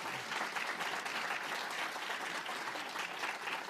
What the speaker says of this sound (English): let's once again get a big round of applause to all this year's recipients of the Teaching Awards